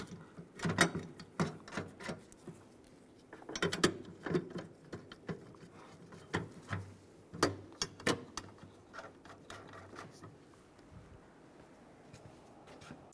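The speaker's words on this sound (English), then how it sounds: "a 10 millimeter socket, and we'll just snug this down." Bolts snugged down with a 10 millimeter socket ratchet while replacing an impact airbag sensor on a 2007-2013 Chevrolet Silverado: quiet bursts of rapid ratchet clicking, pausing and resuming, fading out toward the end.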